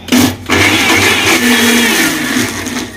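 A mixer grinder whirs loudly as it grinds chili for tomato pickle, the motor surging after a short pause and then running steadily with a slowly falling pitch.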